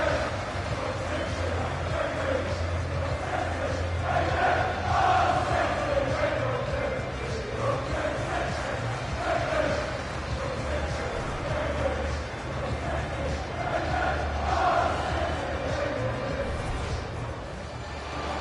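A large stadium crowd in FIFA 2020 at a Norwich City career match, giving a steady, restless murmur and low grumbling roar that carries on unbroken throughout.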